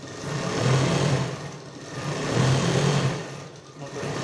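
A sewing machine stitching cloth for a child's school shirt, running in two short bursts of steady whirring hum with a brief pause between, close and moderately quiet, with no one speaking.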